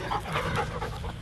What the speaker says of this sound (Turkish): Köpek getirdi.